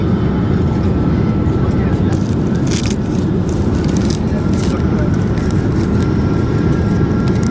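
Loud, steady airplane cabin roar during a long 12.5-hour flight, a dense low rumble filling the whole stretch with faint rustles over it and no speech.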